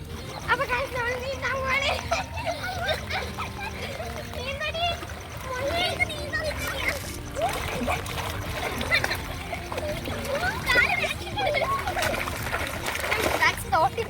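Water splashes and sloshes repeatedly as children swim in floodwater, playing and shouting nearby, lively and busy, with talking and calls mixed throughout.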